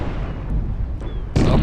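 Warships fire naval cannons in a Napoleon Total War sea battle, a heavy rumbling roar of gunfire that ends in a sudden loud close boom, no voices.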